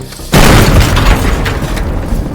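A sudden loud video game explosion bursts in after a quiet moment, followed by a rumbling, crackling decay that fades over the next two seconds.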